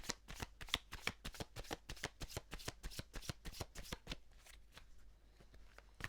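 Tarot cards riffled and shuffled by hand in a quick, steady run of crisp, close flutters lasting several seconds, easing into a softer rustle near the end.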